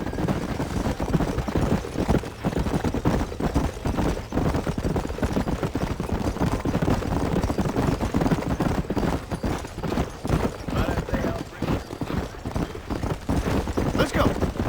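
Horses galloping in the video game Red Dead Redemption, a continuous rapid drumming of hoofbeats at a steady rhythm, fairly close, with voices talking over it at times.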